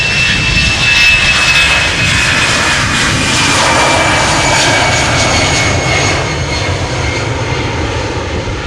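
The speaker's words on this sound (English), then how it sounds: "Cheater to Gdansk, Embraer 190 KLM, flight 1303" A KLM Embraer 190 jet departs Amsterdam Schiphol on its way to Gdansk, a loud, close, sustained engine roar that stays strong throughout, with a high whine and a slight fade near the end, with no talking.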